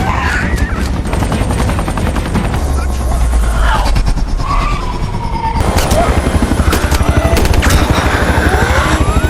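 Helicopter in a zombie film, a steady loud rotor chop running throughout, mixed with bursts of rapid gunfire and other action sounds.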